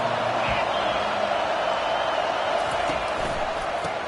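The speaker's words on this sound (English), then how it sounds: "This crowd trying to show them what it's going to be like all day in this house" A football stadium crowd roars steadily in a broad, continuous wash of noise at a college game between Clemson and Texas A&M, with a faint announcer's voice under the din.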